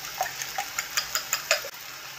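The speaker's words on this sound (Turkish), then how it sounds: "Çatalla güzelce çırpalım." Eggs beaten with a fork in a bowl, a quick run of about eight light rhythmic clicks and taps, close and steady, alone over a faint background hum.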